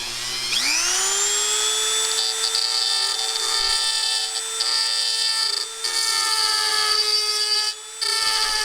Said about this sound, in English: This little Dremel with the carbide tip really throws the aluminum.